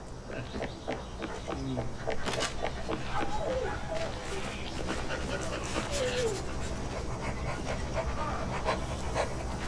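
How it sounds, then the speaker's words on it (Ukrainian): Dog panting in the video game Hello Neighbor 2, a steady rapid breathing that runs through the whole stretch over a busy game soundscape, with a voice talking faintly underneath. "поклади вкусняшку в миску та зачекай, поки собака почне їсти"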